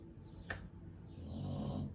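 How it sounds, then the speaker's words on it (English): Soft, low rasping snores from a sleeping baby girl, quiet and close, with a brief sharp noise early on. "She's snoring."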